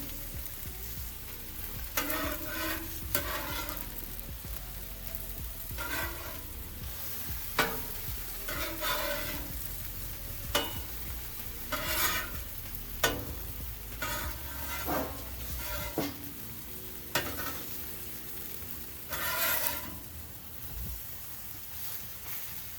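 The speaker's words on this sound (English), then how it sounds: "then lift the dome and mix the potatoes." Potatoes being stirred and turned on a Blackstone griddle, a low sizzle under repeated scraping strokes of a utensil on the hot flat-top, coming in irregular bursts, close, with no talk.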